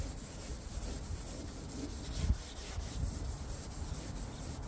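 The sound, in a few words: sanding the car's hood paint by hand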